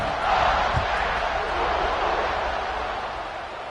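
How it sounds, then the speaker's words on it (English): Stadium crowd at a football game buzzing after a score ahead of a kickoff, a broad, steady roar of many voices that swells briefly then eases, distant and sustained. "this crowd is buzzing after that last score"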